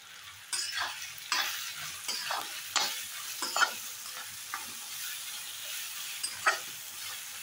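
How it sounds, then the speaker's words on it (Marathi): Onion going into a hot pan for biryani, giving soft sizzling and frying with intermittent stirring scrapes and clinks, fairly quiet and close, with no voices. "हे पहा, आता आपण कांदा घालून घेत आहोत।"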